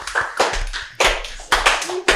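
Hands clapping at an Indonesian wedding-anniversary celebration, loud uneven bursts of claps arriving in several clusters, close by and mixed with a little background chatter.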